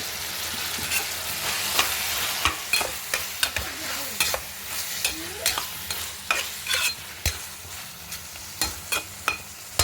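Tomato, drumstick and onion curry is stirred in a pan, a soft sizzle under repeated sharp spoon scrapes and taps against the metal, close up and fairly quiet, roughly a dozen strokes.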